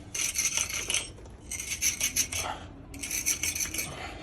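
Steel pointing iron scraping and rubbing drying pointing-gun mortar into brick joints, three bursts of gritty rasping strokes with short pauses between them, close and moderately loud.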